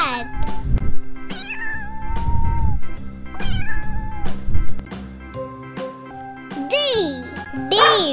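A cartoon cat meows several times within a children's alphabet song, drawn-out tonal meows over bouncy music with jingling bells, and a voice sings along.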